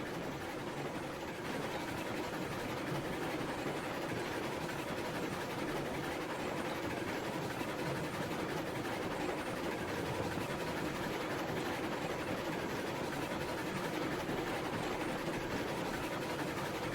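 A three-car train runs in the railroad game Railroads Online, a steady, unchanging rumble of wheels and engine that holds at even loudness throughout, with no voices.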